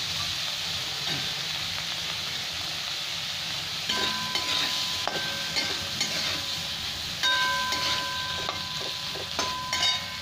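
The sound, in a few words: prawns frying in a pan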